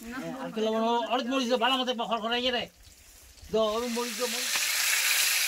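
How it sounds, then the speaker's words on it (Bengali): Fish sizzling in a frying pan at an outdoor riverside picnic, a steady frying hiss running beneath a person's speech and growing louder toward the end. "মাছ ভাজি হচ্ছে"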